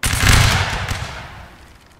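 Line infantry fire a loud, close musket volley in a Napoleonic Wars battle game, a dense ragged crackle of many shots bursting at once and rolling off into a fading rumble.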